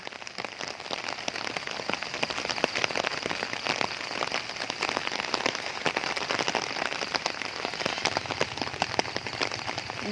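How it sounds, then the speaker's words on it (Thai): Steady, heavy rain pours without pause, a dense and even hiss of drops drumming on surfaces close by, constant and loud throughout with no voices. "ดูบรรยากาศฝนไม่ยุดเลยค่ะ"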